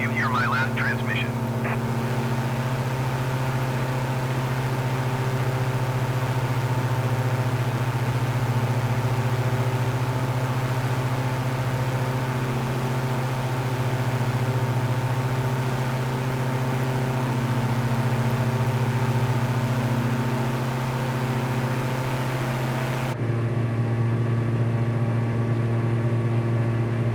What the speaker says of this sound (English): Throttle down the engine a little bit.